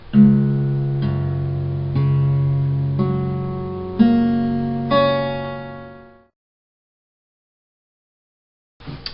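A guitar in open G tuning is strummed in about six ringing chords, one roughly each second, then fades into silence before a brief final sound.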